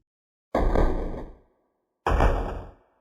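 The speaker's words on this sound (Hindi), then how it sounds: "तब घर के दरवाजे पर धीरे धीरे दस्तक होने लगी" Slow knocks on a house door, used as a horror story sound effect: two separate heavy, booming thuds about a second and a half apart, each ringing out and fading, with silence between them.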